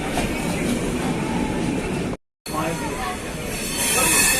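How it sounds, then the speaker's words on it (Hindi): Kiul-Malda intercity train pulling into Bhagalpur station: steady loud rolling rumble and rail noise with a brief dropout midway, then continuing with a higher hiss near the end. "ट्रेन हमारी भागलपुर घुस रही है।"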